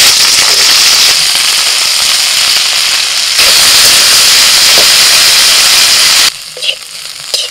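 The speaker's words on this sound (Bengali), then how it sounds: "তেলের মধ্যে দিয়ে দিচ্ছি ঢেঁড়স।" Okra dropped into hot oil sets off a loud, dense, continuous sizzle and crackle, close by, that holds steady before suddenly easing to a softer spitting near the end.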